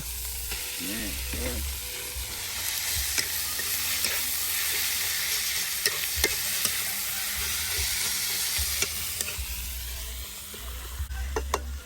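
Minced pork and beans sizzle steadily in a hot pan for a Thai basil stir-fry, with a continuous frying hiss and occasional scraping stirs close by throughout.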